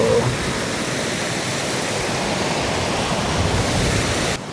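A waterfall from Goat Lake pours into a deep gorge, giving a steady, loud, broadband roar that holds unchanged and then cuts off abruptly at the end.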